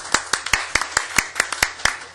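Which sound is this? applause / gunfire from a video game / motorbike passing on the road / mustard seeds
applause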